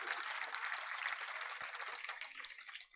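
Soft, steady applause from an audience gathered for a Jain monk's religious discourse, a dense patter of many hands clapping at moderate volume for about three seconds with no speech over it.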